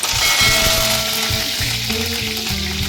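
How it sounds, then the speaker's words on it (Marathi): Cumin seeds and curry leaves crackle and sizzle in hot oil for a tempering, a steady, close frying hiss with faint stirring and no voices. "कढीपत्ता असा तडतडला पाहिजे म्हणजे छान लागतो"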